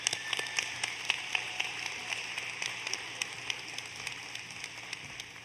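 Steady applause from a commencement audience at Epic Academy's 2023 ceremony, a dense even patter of many hands clapping with a few sharper claps standing out, sustained throughout at moderate distance.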